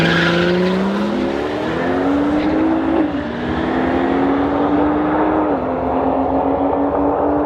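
A BMW 340i race car roars along a race track at full throttle, its loud engine note climbing through the gears with brief shift dips, held steady and close throughout.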